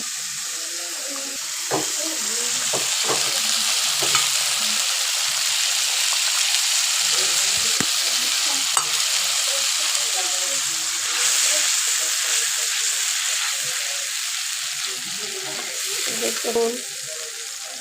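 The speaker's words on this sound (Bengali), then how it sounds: "মশলাটা ভালো করে কষিয়ে নেব।" Spice paste sautéing in a pan for a Bengali rohu fish curry, a continuous close sizzle with scraping and stirring clatter, someone speaking briefly over it.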